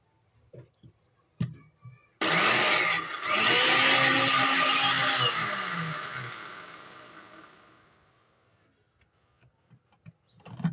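An electric juicer blender whirs loudly for several seconds as it mixes yogurt for lassi, then winds down and fades out, with a few clicks and knocks before and after.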